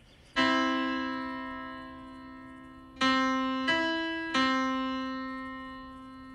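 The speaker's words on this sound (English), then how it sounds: "this is the sound of a just major third." Synthesized just-intonation major third made in Max, a clean harmonic tone struck four times with each note slowly decaying, close and alone.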